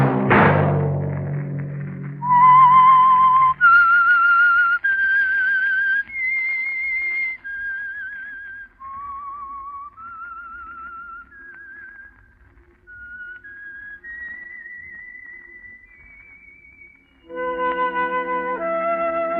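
A lone whistler carries the eerie theme of The Whistler radio mystery program, a slow descending-then-rising melody of clear sustained notes, opening after a low thump and ending as an orchestral chord swells in.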